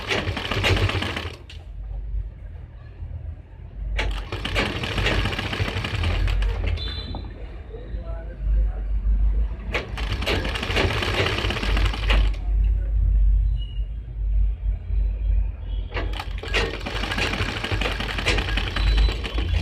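A sewing machine runs in long, loud, steady bursts while stitching the neck strip of an Angrakha-style suit. Its motor whirs for several seconds at a time, with brief lulls in between.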